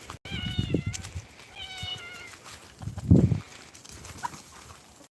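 A cat in a garden gives two short, quiet meows about a second apart, followed by faint rustling and a soft low thud in the background.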